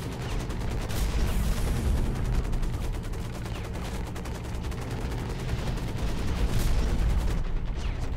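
Rockets and weapons fire from a mech in the video game Hawken, a dense, continuous barrage of booming shots and explosions at steady loudness throughout, with no talk over it.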